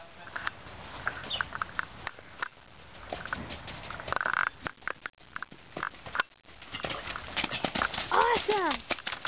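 Hooves of a horse clip-clop steadily at a walk on firm ground at a riding event, while people chat nearby.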